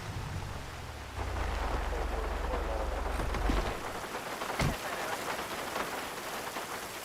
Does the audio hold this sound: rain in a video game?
yes